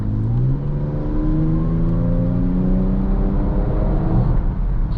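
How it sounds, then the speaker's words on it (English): A 2018 Jaguar F-PACE 3.0 supercharged's exhaust drones loudly and steadily under a bridge, its engine note climbing gradually as it accelerates, close and continuous with no talking. "You hear that exhaust under that bridge right there?"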